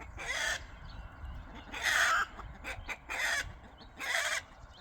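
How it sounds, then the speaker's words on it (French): A rooster crows loudly and close alongside clucking chickens on a farm, in several bursts of calling separated by short pauses. "Il est là le coq, il est ici."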